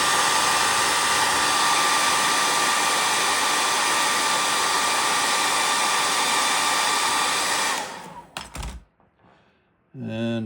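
A hair dryer blows steadily and loud at close range while drying acrylic paint on a hand-carved cedar waxwing bird, then switches off near the end, followed by brief handling noises and a short burst of airflow.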